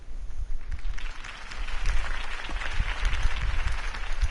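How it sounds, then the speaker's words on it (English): Crowd applause at a political campaign rally in the Batman Telltale series video game, steady dense clapping from a large audience, loud and continuous throughout. "could have heard that applause"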